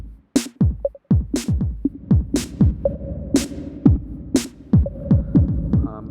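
Music track routed through a reverb effect on a send bus in AUM: a steady sequence of punchy, deep thumping beats with short tonal notes, each hit trailing into a reverb wash, played alone at a fairly loud level.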